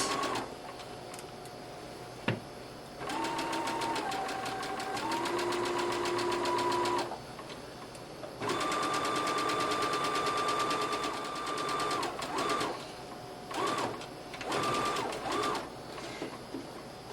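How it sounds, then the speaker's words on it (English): A sewing machine straight-stitches a half-inch rolled hem on a dress sleeve. It runs in two long, steady bursts of rapid mechanical whirring, then a few short starts near the end, close and clear with no talking. "here's our rolled hem on our sleeve. 1/2 inch and pinned in place and then straight stitched."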